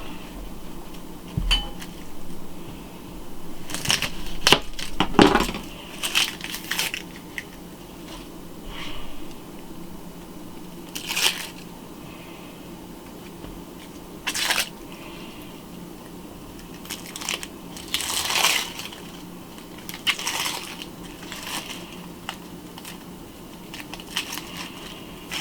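A knife cuts an onion on a cutting board with scattered crisp chops and crunches that come in irregular clusters, close but fairly quiet, against a low steady kitchen hum.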